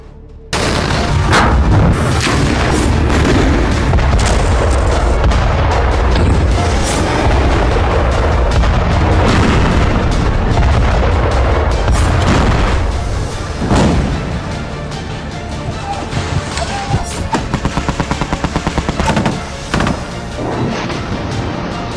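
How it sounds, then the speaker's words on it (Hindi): Israeli bombing in Gaza heard through news footage: heavy, loud explosions boom one after another amid bursts of gunfire and crashing debris, dense and continuous before easing into scattered, quieter blasts toward the end. "इजराइल लगातार बम बरसा रहा है"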